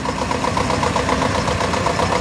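Vintage tractor engine running at the Great Dorset Steam Fair, a loud, steady, close chugging idle with an even, rapid rhythm and no voices over it.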